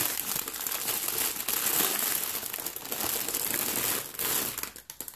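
Plastic packaging around a Club Nintendo Yoshi plush crinkles loudly and continuously up close as it is unwrapped, with crunchy bursts and short pauses.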